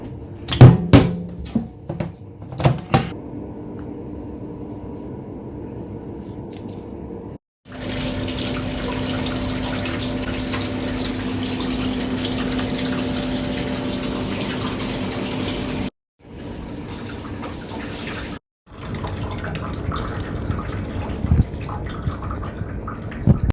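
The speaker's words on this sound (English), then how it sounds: "So now it just entered into the 90 minutes cleaning cycle." Maquet HCU 40 heater-cooler unit running its disinfection cleaning cycle: steady rushing, gurgling water circulation that stops and restarts in segments, after a few sharp taps and clicks at the start, with no talk.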